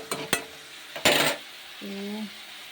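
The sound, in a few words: eggplant and onion-tomato curry stirred while cooking in pan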